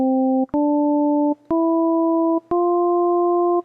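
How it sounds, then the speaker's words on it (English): A steady synthesizer tone from Ableton Operator's oscillator sounds as four sustained notes, each stepping slightly higher with brief gaps between, loud and alone with no voice. "So if we change from a sine wave, which has a very smooth pattern, into a sawtooth wave"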